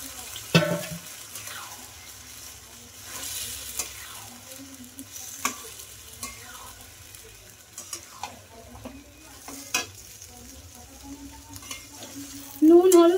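Marinated mutton frying in a pan, a soft sizzle under repeated scraping and stirring strokes, close up, with a louder clatter near the end and no talk.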